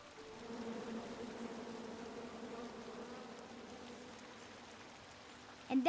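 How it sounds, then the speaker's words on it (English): A swarm of angry bees in the King's Quest adventure game drones in a steady, continuous buzz, fairly close and even, with a sharp sound cutting in at the very end. "Come at me, bees!"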